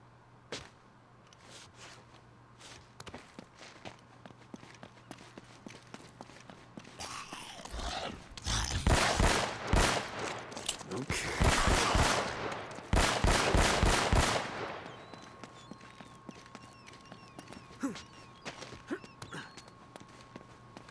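Gunfire in the game Uncharted crackles as rapid bursts of close, loud shots over several seconds, then fades back to quiet ambience.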